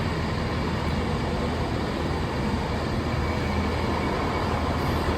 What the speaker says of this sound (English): This is my train to Cardiff Central